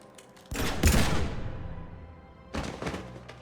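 Gunfire in the video game Mass Effect 3 comes as a loud burst of shots that rings out into a long decaying tail, then a second, softer volley about two seconds later.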